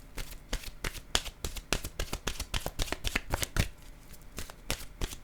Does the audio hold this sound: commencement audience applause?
no